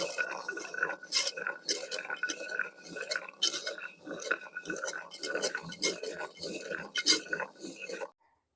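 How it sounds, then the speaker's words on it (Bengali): Jackfruit seeds being rubbed clean of their skins by hand in a rural kitchen, a steady run of gritty scraping and clicking strokes at close range, with occasional faint talk. "এবার আমি কাটালের আটি ঘষি নেব কাটালের আটি ঘষলি পরে পরিষ্কার হয়ে যাবে"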